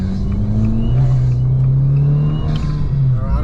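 Car engine fitted with a Forge induction kit, revving loudly and steadily while driving, a thick low rumble rising and holding with induction noise throughout.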